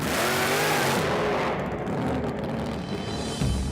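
A 468 cubic inch Hemi motorcycle engine with 2,500 horsepower roars and revs with a harsh, loud rumble that shifts in pitch, heard up close with no voices.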